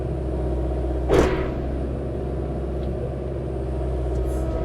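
A Kubota U55-4 excavator's engine drones steadily while the dipper arm moves, with a brief hydraulic whoosh early on over the constant low mechanical rumble.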